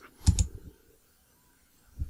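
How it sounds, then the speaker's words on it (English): A few quick key presses on a computer keyboard, a tight pair of clicks followed after a pause by one more soft tap, close and quiet in an otherwise silent room. "you can click the delete button on your keyboard"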